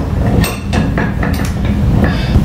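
Sharp metallic taps knock a stuck Jeep lug nut out of a socket, probably held in a vise: several close, ringing clinks at irregular intervals, loud and dry with no voices.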